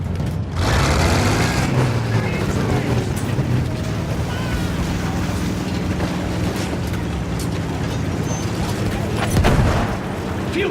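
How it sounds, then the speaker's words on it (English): A Battlefield 1 field gun booms amid a loud, continuous wartime din of engine rumble and battlefield noise, with a sharper blast standing out near the end. "Field gun close!"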